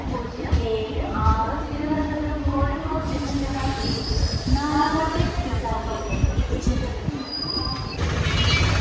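Jan Shatabdi Express between Thiruvananthapuram and Kozhikode pulling into a Kozhikode platform, with a steady rumble of wheels and carriages, brief squeals, and a platform announcement and voices over the noise.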